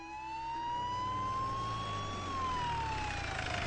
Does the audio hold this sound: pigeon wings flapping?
no